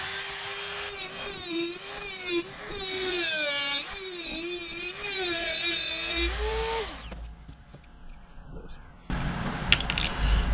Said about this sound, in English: we're going to grind that flat to make sure it sits well